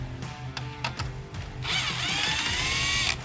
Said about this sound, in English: All right, so we're gonna go ahead and start pulling these screws out.